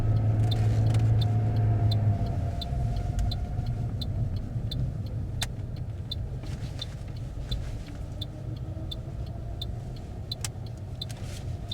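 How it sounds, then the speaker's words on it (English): A car held in first gear for too long, engine over-revving on the approach to a roundabout during a mock driving test, a steady loud near drone with a high strained whine and faint periodic ticks throughout. "The revs get too high and you can hear the car screaming, which is not good."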